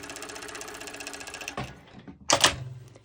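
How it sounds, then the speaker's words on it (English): A cover stitch sewing machine stitches the hem of pole bottoms with a fast, even mechanical chatter that stops after about a second and a half, followed by a few clicks and clunks from the machine. "this is how I've cover stitched it"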